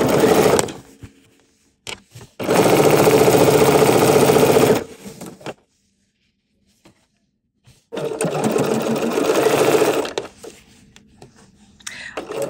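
Close, loud sewing machine stitching the binding of a reversible table runner near a mitered corner: two sustained runs of rapid stitching separated by a quiet pause, with a few short stitch bursts before.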